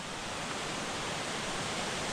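Creek water rushing steadily past the Hazel Creek campsite in North Carolina, a dense, even roar of flowing water close by with no other sounds.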